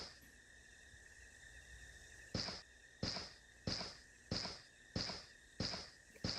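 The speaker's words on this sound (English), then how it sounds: "Footsteps are kind of loud" Footsteps in the horror video game Lethal Omen, seven regular, fairly loud thuds about two-thirds of a second apart, starting after a quiet stretch of steady ambient hum and high tonal drone.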